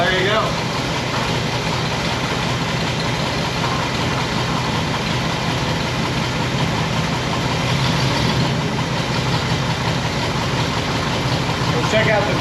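A 1960 Pontiac Bonneville engine idles steadily and fairly loud, a continuous low rumble that runs the whole time with people talking over it.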